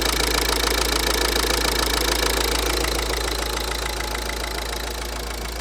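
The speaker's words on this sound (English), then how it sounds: "Bit of a tick coming from some of it. I think that's an injector." A Ford Focus TDCi diesel engine idles steadily up close, a constant low rumble with a fast, persistent ticking from a suspected faulty injector riding on top, loud and without speech.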